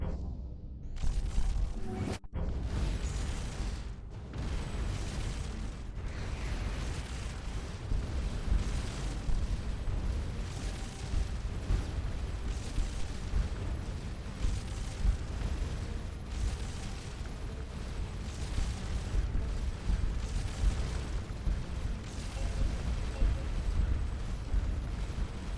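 Enemy weapons fire and explosions in the space game Starcom Nexus pound repeatedly against a ship, forming a dense, continuous barrage of booms and bursts that persists evenly across the whole stretch.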